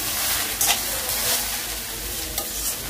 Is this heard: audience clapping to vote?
no